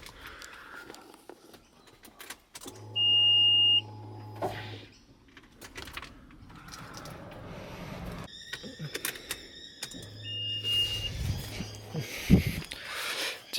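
Electric fuel pump priming in a Subaru WRX STI with an upgraded fuel system: two separate steady hums, each lasting a couple of seconds, with faint chimes and clicks around them in a garage.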